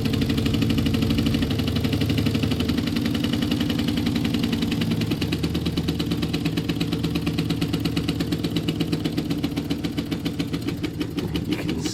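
A Bassett-Lowke live steam model locomotive runs with a rapid, steady chuffing and mechanical clatter that stays continuous and fairly loud, with a low rumble underneath and no voices.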